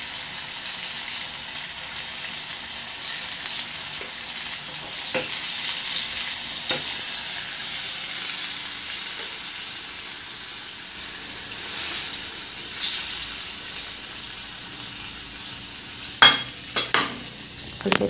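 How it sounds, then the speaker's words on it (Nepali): Fenugreek seeds, chilli and turmeric frying in hot mustard oil while making raw mango pickle, a continuous close sizzle with a few stirring scrapes and clinks toward the end. "यता त तातिँदै छ तोरीको तेल"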